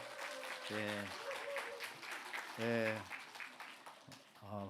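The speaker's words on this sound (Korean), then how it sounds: "우리 박수로 한번" A church congregation applauds a returning member during Sunday service announcements, a steady wash of clapping running the whole clip with a voice speaking over it in short bursts.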